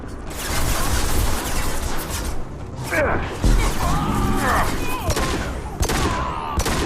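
Gunfire in the Mass Effect 2 video game on Korlus, loud sustained volleys of rapid shots and impacts, with voices shouting over the battle.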